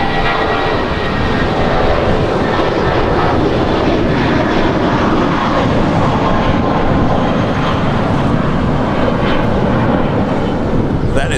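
American Airlines Boeing 737-800 jet arriving from Cabo at LAX, its engines producing a loud, continuous roar close by that holds steady throughout.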